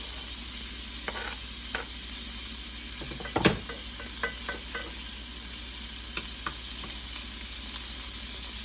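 Garlic sizzling in plenty of melted butter beside deer steak in a pan, a steady close frying hiss with occasional light pops and one louder clatter partway through, no talking.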